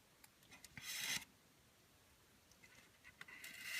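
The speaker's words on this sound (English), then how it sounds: "scoring, basically using my metal scribe, and I just do like a couple of passes back and forth" Metal scribe scratched back and forth across a diorama brick wall to score mortar lines, giving quiet, dry rasping strokes in two short bursts of passes.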